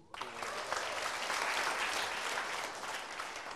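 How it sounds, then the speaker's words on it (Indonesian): A stand-up comedy show audience breaks into applause, a broad, steady wash of many hands clapping that holds at an even level throughout, with no talk over it. "tepuk tangan dulu"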